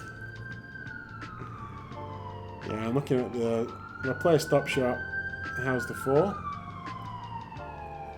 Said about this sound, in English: Apologies if you can hear the siren outside.